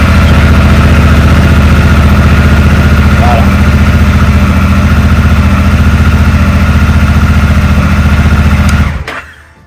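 A 2019 Honda Africa Twin 1000L engine idles loud and close with an even low throb, then shuts off near the end.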